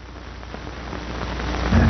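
Steady rain falls onto surfaces outdoors with a dense, even hiss that grows gradually louder, and no voices.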